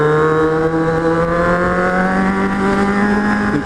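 A Kawasaki Z750 motorcycle on a city avenue revs in a loud, sustained engine drone whose pitch climbs steadily as it accelerates, heard close from the rider's position with no talking.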